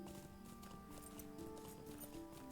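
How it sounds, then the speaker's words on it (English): Horse hooves clip-clopping as a rider travels in the Lord of the Rings Online video game, faint, steady footfalls under a dense wash of game ambience and music. "we'll finish riding the horse"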